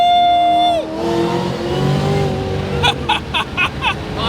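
A 1000 hp Ford Shelby GT500 Mustang accelerates hard on a road, its loud engine howl dropping sharply at a gear shift, then climbing again as the revs build. Choppy bursts follow toward the end.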